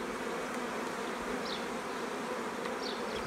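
Honey bees hum in a continuous, dense buzz at a drone-rearing hive, steady and close, with a couple of individual bees briefly passing near.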